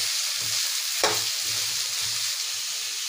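Beetroot stirred into frying onions in a pan for beetroot poriyal gives a steady sizzle with a sharp scrape at about one second and soft spoon clatter throughout, close up, with no voices.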